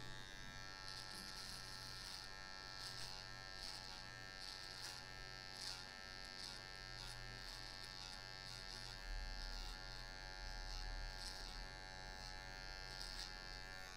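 Electric hair clippers trim excess hair to straighten the neckline during an American-style haircut on hair with bald patches, giving a steady, continuous motor buzz that is fairly quiet and close, with slight variations as the blade moves.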